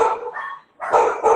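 Two female dogs bark in quick, loud bursts close by, with a short pause between the barks and no talk over them.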